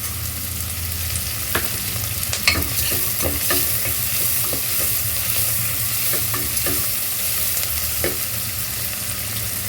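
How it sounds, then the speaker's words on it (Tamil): Onions sautéing in ghee in a pan while being stirred, a continuous loud sizzle with scattered scraping strokes of the spoon, no voices. "இப்போது வெங்காயம் வதங்கும் போதே நம்ம உப்பு சேர்த்துடலாம்"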